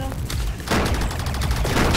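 Gunfire crackles in a video game as rapid shots pile up in a loud, dense burst. The barrage grows heavier after a brief lull and stays close and intense for the whole two seconds.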